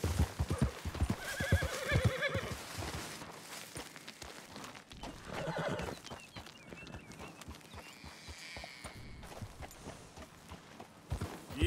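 A horse in the Red Dead Redemption II video game gallops with steady clip-clop hoofbeats and neighs loudly several times, all close and continuous over the clip.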